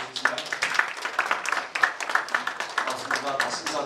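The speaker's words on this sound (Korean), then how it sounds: "교수님을 큰 박수로 모시겠습니다" A forum audience claps to welcome a professor, giving a run of quick, dense claps mixed with a voice, moderately loud and steady throughout.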